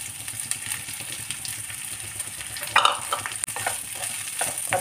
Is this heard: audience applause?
no